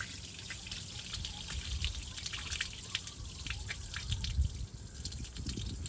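Water drips and trickles inside the trunk of a flood-damaged Toyota Camry, a steady close patter of small drops with a wet, splattering texture throughout.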